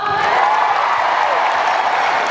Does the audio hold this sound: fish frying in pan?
no